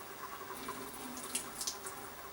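Boiling water pours into a sink or basin, a light steady trickle and splashing with a few brighter drips, close and fairly quiet, no voices.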